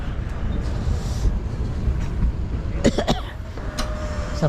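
Train at Awantipura railway station in Kashmir, on a snowy Srinagar to Banihal run: a steady low rumble of the stopped or slow-moving train, with a few sharp squeals or whistle-like tones near the end.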